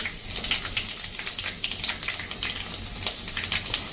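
Methi patra pieces fried in a tempering with sesame, giving a steady bright sizzle with soft crackles throughout, close and fairly loud, with no voices.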